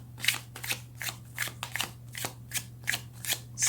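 Tarot cards are shuffled close up in repeated quick riffling bursts of papery flutter and slapping, about eight rhythmic strokes over a low steady hum.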